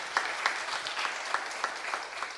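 A church congregation claps together, fairly quiet and a little distant, with distinct louder claps standing out from the steady patter.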